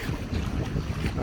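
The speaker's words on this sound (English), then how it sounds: "It's pretty windy too" Wind blows across a lakeside campsite in Algonquin Park, a short burst of loud, broadband rumbling gusts buffeting the microphone, with no voices.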